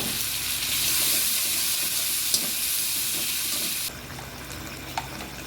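Chilli paste, cumin and chopped tomatoes sizzle in a pan for a paneer dish, a steady hiss that drops in level partway through. A couple of soft clinks sound over it.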